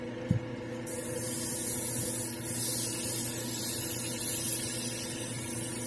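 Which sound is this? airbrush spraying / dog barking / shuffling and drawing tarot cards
airbrush spraying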